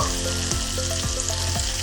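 Garlic paste and onion fry in hot oil for a Bengali prawn malai curry, giving a steady close sizzle with a few soft scraping stirs every half second or so and no voices.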